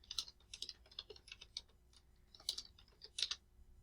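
Close, quiet typing on a computer keyboard while entering text into a spreadsheet, with a quick uneven run of light key clicks and brief pauses between bursts.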